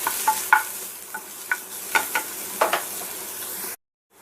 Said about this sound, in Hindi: ये वाला ऑनियन जो चॉप करके रखे थे, इसको अच्छे से डाल के पकाएंगे।